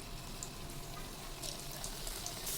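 Milk-chhana puli pitha made with flour frying in hot oil, a steady hiss with faint crackle throughout, close and continuous with no voices.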